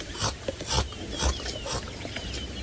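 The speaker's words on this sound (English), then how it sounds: "That's the sound of the carnassial shears busy cutting away at the hide" Wet rasping crunches repeat every half second or so as a lion's carnassial teeth shear through tough hide, close up with a low background rumble.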